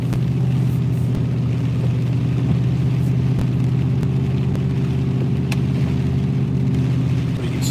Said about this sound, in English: I apologize for this truck being so noisy.